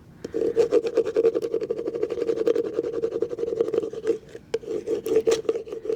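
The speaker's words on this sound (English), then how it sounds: "You can be quite generous with your scraping here." Weeding tool scraping over permanent vinyl, a continuous close rasping rub with a steady tone, broken by a few short pauses and quicker scratchy strokes.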